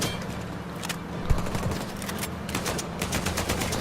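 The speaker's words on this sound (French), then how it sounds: "Tu sais qu'il me tire dessus là. Il me tire dessus, je sais pas d'où." Rapid gunfire in the video game Uncharted 4, with sustained bursts of automatic fire and scattered shots forming a dense, loud, continuous barrage.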